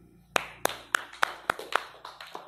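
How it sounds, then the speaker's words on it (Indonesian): A group claps hands in unison during a scout leadership training session, about eight sharp, evenly spaced claps that trail off into a few scattered ones, fairly close in a quiet room. "tepuk tangan."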